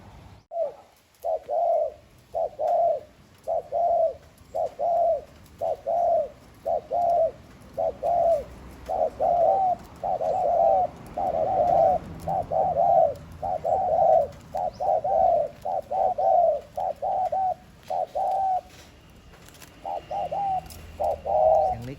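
A decoy dove coos in a steady, repeating rhythm, short soft phrases following one another with brief gaps, close by against a quiet background.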